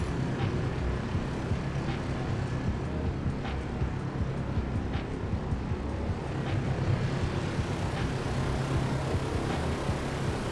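A Douglas DC-3's piston propeller engine drones steadily in a flight simulator game, a continuous low rumbling hum with faint rhythmic ticks, heard alone without talk.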